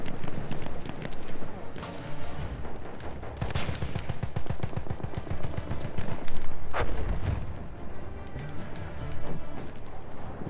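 Rifle gunfire in Battlefield 1, a dense run of rapid shots with sharp impact spikes and a few louder cracks, steady and loud throughout with game effects and voices mixed underneath.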